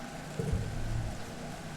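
Torrential rain pours in the video game I Was a Teenage Exocolonist, a soft, continuous wash of noise beneath a low rumble at moderate loudness.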